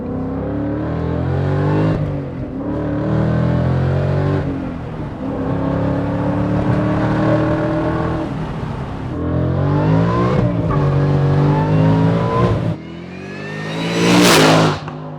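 An 800 hp Saleen supercar accelerating hard through its gears, the engine note climbing, dropping at each shift and climbing again, loud and close from inside, ending in a rising whine.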